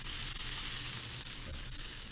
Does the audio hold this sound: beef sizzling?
yes